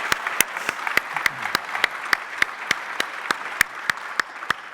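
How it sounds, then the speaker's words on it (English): A forum audience gives Gary Linfoot one more round of applause, heard here as a sparse, steady run of distinct, evenly spaced claps over a quiet background. "I think if we could just give him one more round of applause,"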